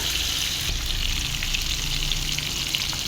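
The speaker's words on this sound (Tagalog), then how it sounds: "Isayin na po natin yung bawang sibuyas" Garlic and onion sauté in a hot pan with oil, giving a steady, close sizzling and crackling throughout.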